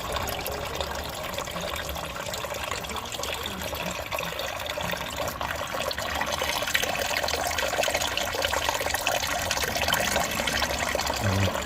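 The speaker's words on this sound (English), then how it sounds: "I'm gonna start draining the coolant and I'm gonna start taking stuff off." Coolant draining steadily from an older Honda Civic sedan, a continuous close splashing trickle of liquid that holds an even level throughout and grows slightly stronger partway through.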